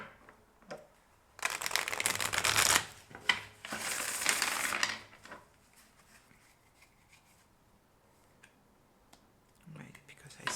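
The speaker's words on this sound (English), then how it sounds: "but I will shuffle again." A deck of playing cards is shuffled up close in two brisk riffled bursts, each a dense rattling flutter lasting a second or two, with quiet handling and faint talk around them.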